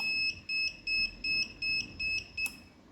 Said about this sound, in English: If any person is entering through a gate, the buzzer will be activated